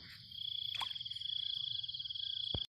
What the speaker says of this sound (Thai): กบไง